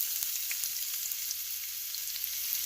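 Onions sizzle in a preheated pot for Jamaican-style steamed cabbage, giving a soft, steady frying hiss with a few faint crackles.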